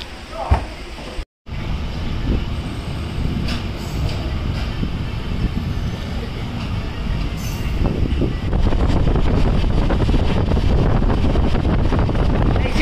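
The Cholan SF Express runs between Kumbakonam and Tiruchirappalli with a continuous rumbling roar and buffeting wind noise. A brief dropout comes early, then the sound grows heavier and steadier toward the end, with no talking.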